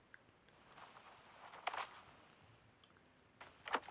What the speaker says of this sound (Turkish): Ayak sesi var dipte.